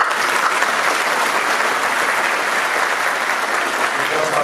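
A crowd at a chamber of commerce candidate list presentation in Tripoli applauds loudly and continuously, a dense, even wash of clapping with no pauses.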